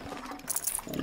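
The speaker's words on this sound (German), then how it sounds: "Unsterbliches Schweinchen, oh mein Gott." Short squeals and grunts from a pig in Horizon Zero Dawn, faint and scattered over about a second, with a little game noise around them.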